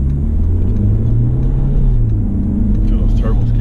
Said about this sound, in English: Feel those turbos kick in, man.